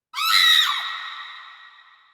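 A woman lets out a single loud, high scream that starts abruptly, holds briefly and then trails off slowly, with no other sound around it.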